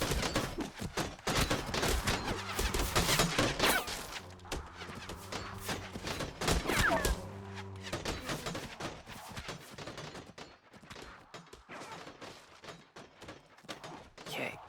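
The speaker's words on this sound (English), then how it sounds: "so just let them shoot everybody down." Troops firing gunfire volleys in a strategy battle game set in an invasion of Transylvania, dense crackling bursts of shots with thuds, loud early then thinning out, under faint game sounds.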